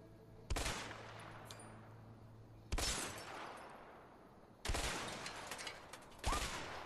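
Sniper rifle shots fired at empty houses in the video game A Way Out: four loud, sharp blasts spaced about two seconds apart, each with a long echoing decay, no talking.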